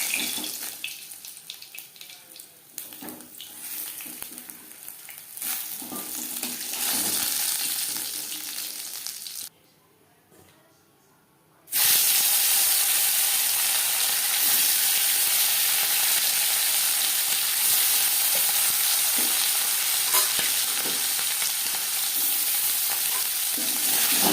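Pakal fish frying in hot oil gives a steady, loud broadband sizzle that runs for most of the stretch, with a brief quieter gap in the middle before the crackling resumes at full strength.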